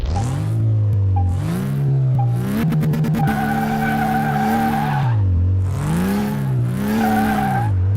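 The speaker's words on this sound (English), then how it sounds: "Oh, that motor sounds weird." A Porsche 911 Turbo S 964 engine revving in the game Car Mechanic Simulator 2018, its loud, continuous tone rising and falling through repeated swells with brief stuttering bursts and tire squeal mixed in, without talking.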